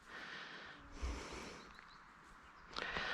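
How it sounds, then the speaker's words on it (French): Alpaca crias sniffing at feed bowls during weaning, giving soft breathy snorts and short nasal puffs close by, fairly quiet. "Très bien, ça renifle."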